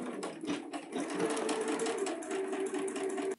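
A sewing machine stitches along an armhole facing near the shoulder seam of a garment, a steady continuous whir with a faint hum, running unbroken for a few seconds before stopping abruptly.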